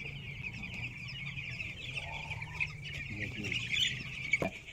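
Chickens and chicks on a poultry farm cluck and peep steadily, with a sharper squawk near the end over a low background hum, moderately close and with no talk.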